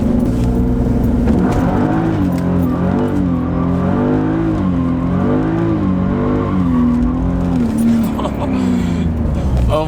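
BMW E36 M3 drifting, its engine revving loud and close with a rising and falling wail as the car slides, while someone talks over it.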